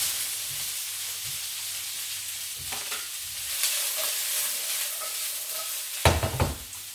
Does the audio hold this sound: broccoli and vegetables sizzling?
yes